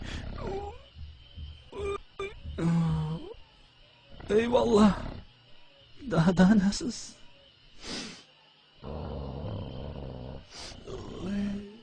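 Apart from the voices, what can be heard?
dog growling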